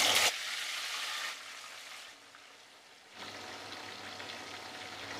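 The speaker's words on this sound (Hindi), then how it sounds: "तेल गर्म हो गया, अब इसमें 1-1 करके चिकन के पीसेस डालेंगे।" Marinated chicken pieces for biryani hit hot oil left from frying onions, a bright hiss bursting up, easing to a low simmer, then rising again into a steady close sizzle.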